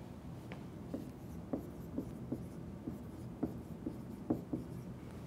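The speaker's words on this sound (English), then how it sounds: "So we write its name." Someone writes out a chemical name by hand in quiet, close strokes that come in a steady series of short scratches over faint background hiss, with no talking.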